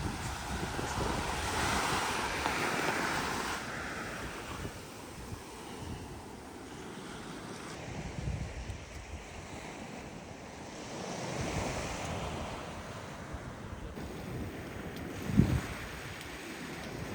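Waves wash onto Bikini Beach on Feridhoo Island in the Maldives, with soft rolling surges and wind buffeting the microphone.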